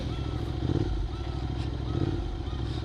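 A friend's GT motorcycle engine runs at idle close by, a steady low throbbing rumble with slight rhythmic pulsing and no clear speech over it.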